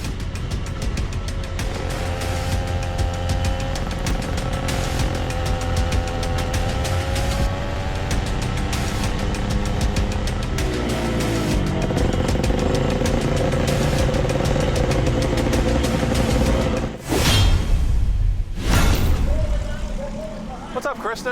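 A race car's engine drones close and loud around the final corner, its pitch sweeping upward as it accelerates toward the start-finish line, with a couple of sharp bursts of roaring noise near the end.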